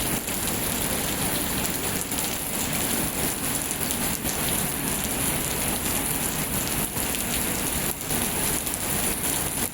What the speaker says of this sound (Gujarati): અત્યારે ઘરે જવું હતું પણ જો અત્યારે વરસાદ આવે છે.